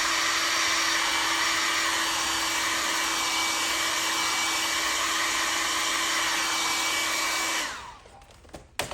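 A hair dryer blows over a leather car door card during restoration, a loud steady whine held for about seven seconds before switching off and leaving faint handling noises.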